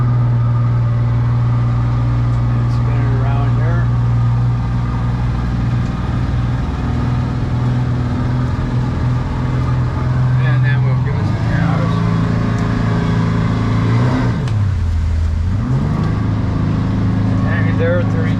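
The engine of a 22-foot North River F250 jet boat drones loudly and steadily on the water, with a few swells in pitch as the throttle is worked, while someone talks throughout.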